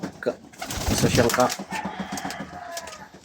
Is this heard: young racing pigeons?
yes